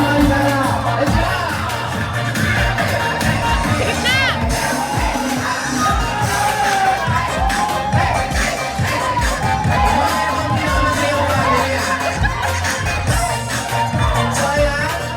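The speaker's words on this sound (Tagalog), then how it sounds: "Palakpakan, may kasamang sigawan." Loud family reunion crowd clapping and shouting together, dense continuous applause with scattered whoops and yells throughout.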